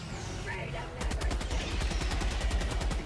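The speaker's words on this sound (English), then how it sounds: "The spaceship was literally shooting at us." Gunfire from a hostile spaceship in the video game Helldivers 2 erupts after about a second into a loud, rapid, steady automatic burst that continues to the end.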